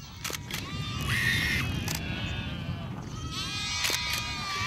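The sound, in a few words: herd of goats grazing on grassland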